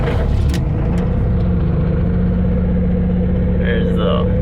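A Bobcat S250 skid steer's diesel engine runs after a cold start, a loud, steady low rumble with a few brief clicks early on and faint higher tones near the end.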